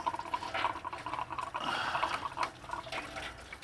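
Coolant trickles and dribbles from a loosened hose on a Toyota Tacoma 4.0 V6 during thermostat replacement, a faint, close liquid splatter in small bursts.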